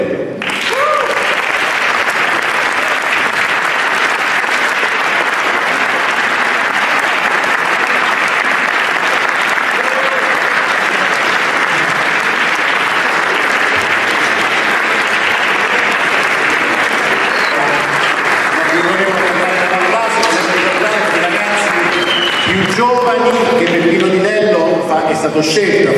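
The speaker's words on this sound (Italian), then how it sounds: "E allora chiamo e chiedo di fare un applauso grandissimo e Peppino Di Vento" A large audience at an anti-mafia award ceremony claps in sustained, dense applause for a long stretch, with voices rising over it toward the end.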